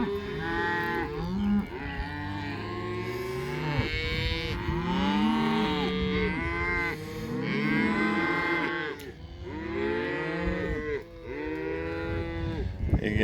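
A herd of cattle moos loudly and almost without pause, many overlapping calls near and far, as nervous cows react to a person and a cattle dog walking among them.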